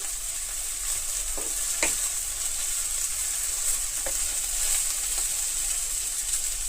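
Okra in a pan with chili powder is stir-fried, giving a steady, loud, bright sizzle with a few soft scrapes of a spatula at intervals throughout.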